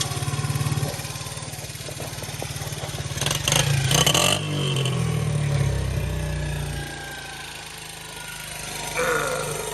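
Small Yamaha Grizzly 80cc ATV engine running after a carburetor replacement, a steady buzzing putter nearby that revs up in the middle and then settles back to a rough idle.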